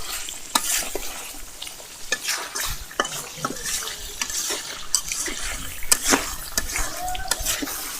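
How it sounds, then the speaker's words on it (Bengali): Duck meat curry stir-fried in a pan in a village kitchen, with steady sizzling broken by repeated scraping and clinking of a spatula against the metal pan, close and fairly loud, and no talking. "এবার আমরা এটাকে কষাবো, ভালো করে কষার পর ঝোলের পানি দেবো।"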